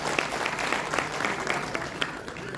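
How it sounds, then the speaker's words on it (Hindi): Steady crowd applause at a retirement ceremony at IVRI Bareilly, many hands clapping at once in a dense, continuous patter that holds at an even level throughout. "जोरदार तालियां इनके लिए।"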